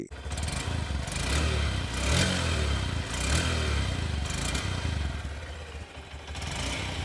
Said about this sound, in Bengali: সবার আগে এর এক্সস্ট সাউন্ডকে একবার শুনে নেওয়া যাক, কারণ এখানে নতুন ইঞ্জিন দেওয়া হয়েছে